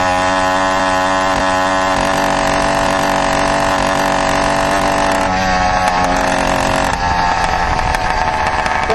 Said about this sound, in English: You hit it full throttle and it's going to bog a little bit like this here.